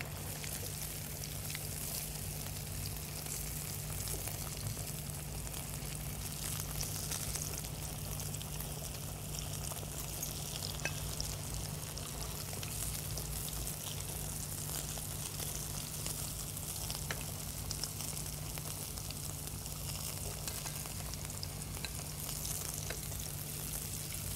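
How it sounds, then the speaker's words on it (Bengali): Pieces of rohu fish frying in oil in a pan, a steady, soft sizzle running evenly throughout at moderate distance with no voices. "আমার মনে হয় আমাদের মাছ ভাজা হয়ে গেছে। এখন আমরা মাছ ভাজাগুলোকে"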